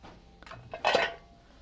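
A thin metal copper-tone bundt pan is handled on a thrift store shelf, giving a couple of light knocks and then a short clattering scrape, close and alone.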